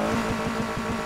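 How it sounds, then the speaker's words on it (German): BMW 3 Series engine starting in Need for Speed Heat, a short burst of steady rumbling idle with rhythmic low pulses, loud and close. "Motor starten."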